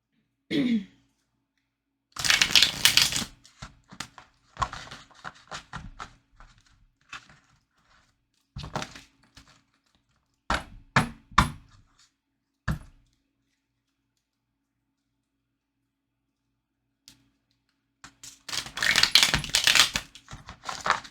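Tarot cards are shuffled in scattered bursts of riffling and tapping, separated by quiet pauses, with a louder stretch of shuffling near the end.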